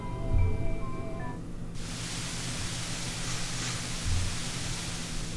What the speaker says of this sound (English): Water was blowing out of nozzles in the crevice between panel lines on the ceiling.